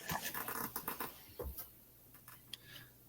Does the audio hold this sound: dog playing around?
yes